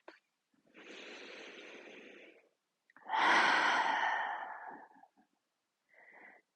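Slow, deliberate breaths during a calm qigong exercise: a soft airy inhale, a fuller and louder exhale, then a brief faint breath, all close and quiet against silence.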